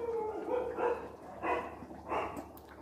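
Dogs bark repeatedly in the distance, a few spaced barks over a low background hum.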